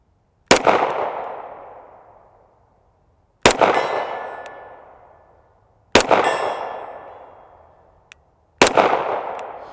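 A Sig Sauer P320 RXP 9mm pistol fires four loud, sharp shots a few seconds apart, each with a long ringing tail that fades away outdoors; no talking.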